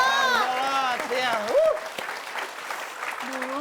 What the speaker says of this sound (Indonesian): Kita kasih tepuk tangan buat Pak Jojon, Bang Mali, dan Bang Lolo.